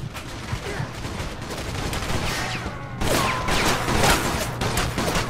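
Sustained rapid gunfire from a Mafia 2 shootout, dense bursts of shots echoing loudly throughout and intensifying in the second half, with no one speaking.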